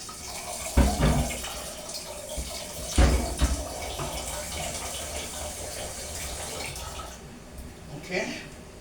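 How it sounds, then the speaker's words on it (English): Tap water runs into a cooking pot in a home kitchen, a continuous hissing splash with a couple of louder bursts and clunks as the pot shifts, while someone talks over it. "I'm going to put some water in here."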